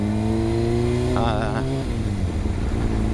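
A motorcycle cruising along with a steady engine drone and layered harmonic whine, the pitch sliding briefly as the throttle shifts, with a rider's voice talking over it.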